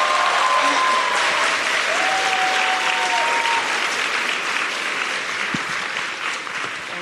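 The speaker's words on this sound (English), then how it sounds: "so yes, applause for us." Audience applause at a climate summit in Lausanne, sustained full-room clapping with crowd noise, slowly fading over several seconds.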